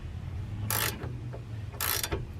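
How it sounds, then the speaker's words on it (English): Wrench and Allen key working loose a sway bar end link nut on a car suspension: two short bursts of mechanical ratcheting, close and fairly loud, with a low hum between them. "You're gonna put the wrench on first, and you're gonna put your Allen key in, and you're gonna go the opposite direction"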